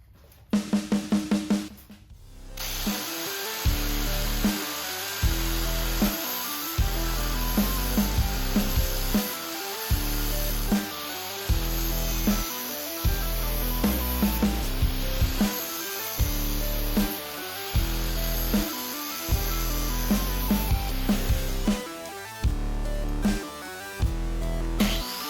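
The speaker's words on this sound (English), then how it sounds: "Let's grind in a bevel." A bevel is ground into a handmade steel kitchen knife blade, producing a loud, steady abrasive grinding roar that swells and drops in repeated regular passes for about twenty seconds.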